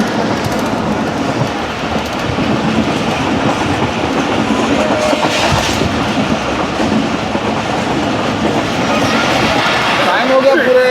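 Musa Pak Express passenger train running between Multan and Lahore on its approach to Okara station in the evening, a loud continuous rumble with rhythmic wheel clatter throughout, the level swelling slightly near the end.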